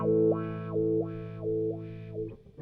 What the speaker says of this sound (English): You push down on your heel, push up on your toe, and it sounds like this.